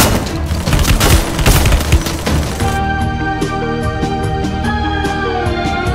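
Double Vector guns blasting in Free Fire MAX, a loud, dense rapid-fire fusillade for nearly three seconds, then a few lighter shot pops ringing over a tonal game music bed.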